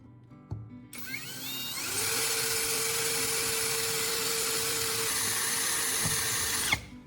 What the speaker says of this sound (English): Secure the steel tube and drill 2 holes at the marked points.